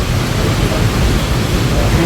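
Heavy rain pours down in a dense, steady roar of broadband hiss with low rumbling underneath, loud and continuous over the short stretch.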